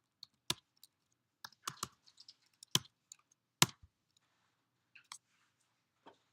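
Someone types on a computer keyboard in scattered bursts, with sharp, close clicks and short pauses between keystrokes in an otherwise quiet room.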